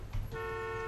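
A car horn in the Taxi Life city driving simulator game, a steady sustained electronic honk that starts abruptly after a brief rumble of engine and street noise.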